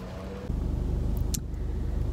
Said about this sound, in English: So we're in traffic in a parking lot.